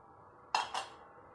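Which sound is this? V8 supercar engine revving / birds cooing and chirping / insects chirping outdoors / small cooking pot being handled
small cooking pot being handled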